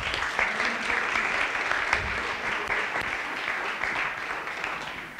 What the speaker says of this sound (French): je vous demande d'encourager et d'accueillir avec vos applaudissements Éric Tomaszek